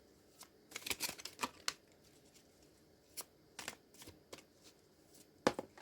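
Tarot cards being shuffled, a run of crisp riffling bursts and slaps at close range, with a few quiet pauses between handfuls and no talking.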